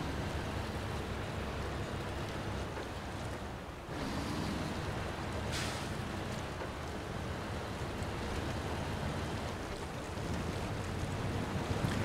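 Steady rushing water from a river in the off-road truck game SnowRunner, a broad continuous wash of flowing water with a slight gust-like swell midway, no voices.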